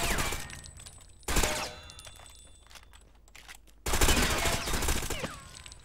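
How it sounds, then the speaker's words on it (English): Video game gunfire at people: two loud bursts of rapid shots, one near the start and a longer one later, with quieter clicks and game sounds between them, no talk. "So you just shoot at these people now."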